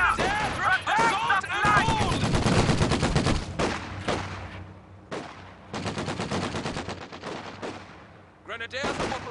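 Bursts of rifle and machine-gun fire crackle through a World War II real-time strategy battle in Company of Heroes, volleys stopping and starting in rapid clusters, with game voices calling out over the shooting.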